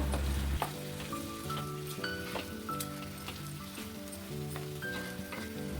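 Chicken with turmeric and salt sizzling in a frying pan for Mangalore-style chicken sukka, a continuous moderate crackle with scattered light clinks and scrapes as the pieces are stirred, and faint tonal background hum.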